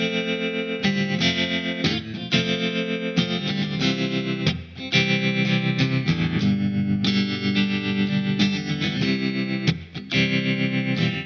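An electric Reverend Jetstream guitar runs through a BBE Tremor pedal set medium-fast and shallow, playing continuous chords with a steady pulsing wobble in volume, close and loud, with no talking.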